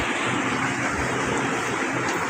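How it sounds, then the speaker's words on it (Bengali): Heavy rain pours down in a dense, steady roar of hiss, constant and loud throughout with no voices. "বাইরে হচ্ছে বৃষ্টি নেমে গেছে ঝমঝমিয়ে বৃষ্টি হচ্ছে"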